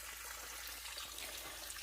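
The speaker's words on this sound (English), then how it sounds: "I'm going to go ahead and water that middle one because I got these nice tomato plants coming along" Water pours steadily over tomato plants in a garden bed, a soft continuous splashing trickle at close range with no voices.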